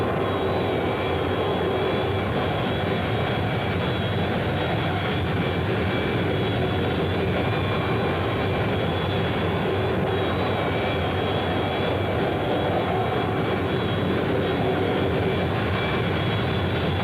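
A Vertijet hovering jet aircraft's engine gives a loud, steady roar with a broad whine, unbroken for about seventeen seconds with no voices.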